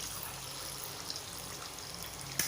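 Wheat-flour kombdi vada dough frying in hot oil, a steady dense sizzle and bubbling throughout with a small splash near the end, close and moderately quiet.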